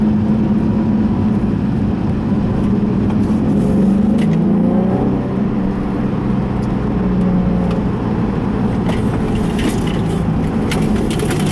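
A Nissan 350Z accelerating hard through corners in second gear, its engine a loud, steady close-up drone with rising and falling pitch as it holds momentum around the bends.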